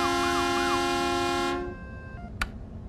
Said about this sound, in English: Hey, turn off the sirens.